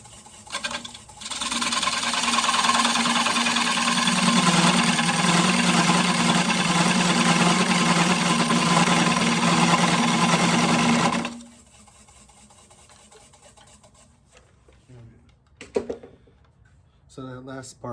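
A wood lathe spins an ambrosia maple bowl in reverse, a steady mid-pitched motor whir with rubbing cutter noise running loud for about ten seconds before it stops, followed by quieter handling clicks.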